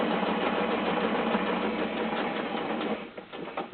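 A sewing machine stitches two pieces of fabric in a fast, steady mechanical rattle, loud and close, then slows and stutters to a stop near the end.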